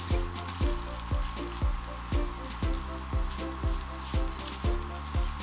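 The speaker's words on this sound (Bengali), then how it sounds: "আবারও একই কাজ, চেপে চেপে খুব ভালো করে সেঁকে নিতে হবে।" An egg roll, the Kolkata street food, toasts in a pan over medium-high heat while being pressed down. A steady sizzle runs throughout, with regular soft thumps about every half second.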